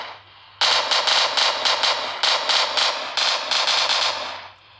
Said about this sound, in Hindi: कहीं भी फायर करिए